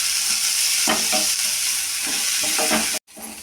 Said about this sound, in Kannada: ಈ ಥರ ಹಾಕ್ಕೊಂಡು ನಾವು ಸ್ವಲ್ಪ ಫ್ರೈ ಮಾಡಬೇಕು.